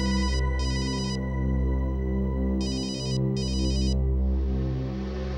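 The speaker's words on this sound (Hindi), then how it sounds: "किसका फोन है" An electronic ringtone plays in repeated bursts of two, with a pause between pairs, loud and close over a steady background hum.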